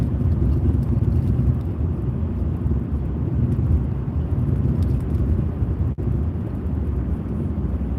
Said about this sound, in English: Bouncing all over the road.